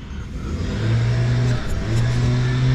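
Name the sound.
neighbour's lawn mower running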